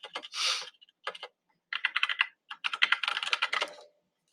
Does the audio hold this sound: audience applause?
no